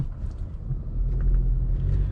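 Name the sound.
Honda Accord 9th gen car driving, intake mod, resonator removed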